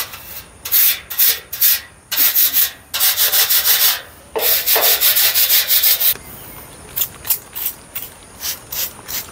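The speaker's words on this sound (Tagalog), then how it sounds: "babrushin natin yung mga kalawang" A stiff brush scrubs rust off a metal Lerberg shelf in rapid, rhythmic strokes, with short scraping bursts in uneven runs and brief pauses between them. Close and fairly loud, with no talking.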